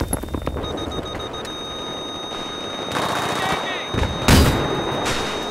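A tank is blown up during combat in Battlefield 3, with rattling machine-gun fire and scattered shots building to a loud, close explosion burst near the end.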